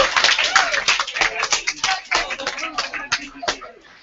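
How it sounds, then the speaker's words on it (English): A room of participants at a youth engagement summit claps in a quick round of applause, crisp, close hand claps that thin out over a few seconds, with voices mixed in. "Round of applause."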